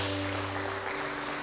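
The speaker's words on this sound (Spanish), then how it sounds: "Dale un aplauso a tu Dios, a nuestro Dios." Congregation clapping for God during a church service, a dense, steady wash of applause lasting throughout, with sustained organ or keyboard tones held underneath.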